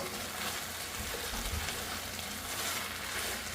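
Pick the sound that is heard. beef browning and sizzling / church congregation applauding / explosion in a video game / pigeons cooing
beef browning and sizzling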